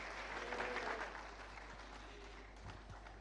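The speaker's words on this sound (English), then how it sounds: "A bigger round of applause while she gets on stage." Audience applause at a UNICEF community celebration as a girl walks onto the stage: faint, steady clapping from a crowd, heard at a distance over a low electrical hum.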